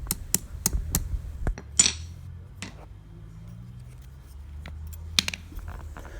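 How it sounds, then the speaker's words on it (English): A hammer lands several sharp, quick metallic taps on a bent WW2 metal badge to straighten it, a clustered burst of clicks at first, then a few scattered lighter taps against a quiet background. "with a few taps of the hammer to carefully not break the pin area"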